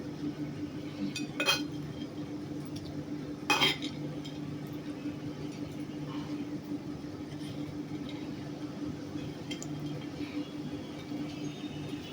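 A spoon stirring spiced chanachur mixed with lemon juice in a bowl, giving two distinct clinks a couple of seconds apart over a constant low background hum.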